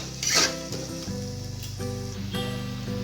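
Ginger sizzles steadily in hot oil in a pan while being stirred, part of cooking a Bengali non-veg puja thali; a continuous crackling fry with soft tonal music running underneath.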